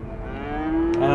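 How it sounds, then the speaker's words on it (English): Cattle in the video game A Way Out give a single drawn-out moo that rises and grows louder over about a second. It is heard close up, with no talking over it. "Oh, look at those cows. They're going to pet one."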